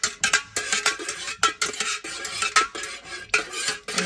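A marbling mixture stirred by hand in a pot off the heat, with a utensil scraping and clinking against the sides in quick, uneven strokes, close and fairly loud with short pauses between bursts.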